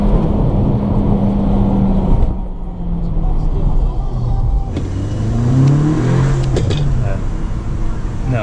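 A car on an onboard test drive accelerates hard at high revs, its engine note rising through the gears with a shift break, loud and close inside the cabin, with someone talking over it.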